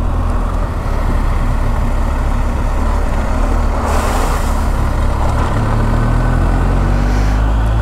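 A vehicle rumbles through a muddy creek crossing on a dirt road along Rocky River Road in New South Wales, its engine a steady loud drone with water and mud splashing in a burst midway.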